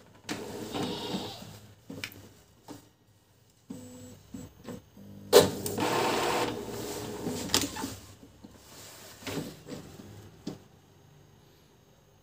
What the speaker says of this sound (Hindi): ये देखिए हमारा स्कैनर भी यहाँ पर मूव कर रहा है